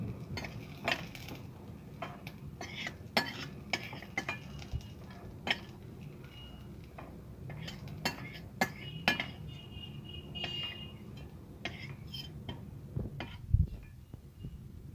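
Chillies and garlic sautéed in a pan for onion thecha bring quiet, irregular metallic clinks and scrapes of a utensil against the pan as they are stirred and lifted out.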